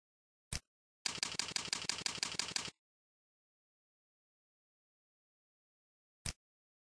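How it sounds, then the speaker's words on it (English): Keystrokes on a computer keyboard as a website address is typed: one isolated click, a quick run of about twenty close, crisp key presses lasting under two seconds, then silence and a single final click. "I'll type TidyMom.net in the search box"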